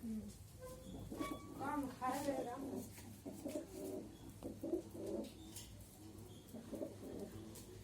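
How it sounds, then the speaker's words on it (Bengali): Pigeons loose indoors in a room give low, rolling coos in repeated bursts, near and moderately loud, with a faint voice at times in the background. "এই কবুতর আছে আজকে আমার কবুতর গুলা"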